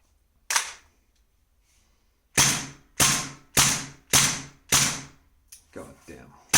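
Sharp gas blowback shots from a VFC MP7 V2 airsoft gun: one loud crack, a pause, then five evenly spaced loud shots, followed by fainter clicks and handling.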